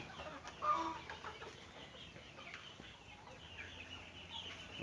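Native Thai free-range chickens, about three and a half months old, cluck on a farm, faint scattered clucks over a quiet, steady outdoor background.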